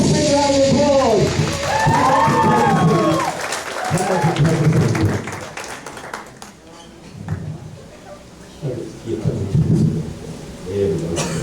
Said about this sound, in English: Give a nice big round of applause.